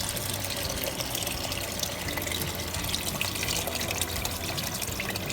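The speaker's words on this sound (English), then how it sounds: "So we'll just add the water. I'm using his pitcher water," Filtered water poured from a pitcher into a cooking pot, a steady close splashing gush that fills the whole stretch evenly.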